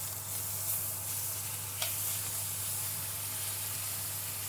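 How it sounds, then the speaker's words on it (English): A ribeye steak sizzles in a frying pan just after being flipped, a constant loud hiss with a low hum beneath and one brief tap partway through. "Now we're gonna flip our steak."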